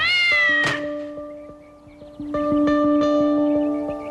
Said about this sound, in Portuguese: Ele escuta o miado do gato e o jornal caindo.